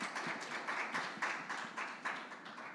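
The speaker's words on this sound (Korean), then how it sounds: "큰 박수 부탁드립니다." A crowd at a Korean youth policy debate gives applause, a brisk run of close, rhythmic hand claps that pulse in even bursts throughout, with no talking.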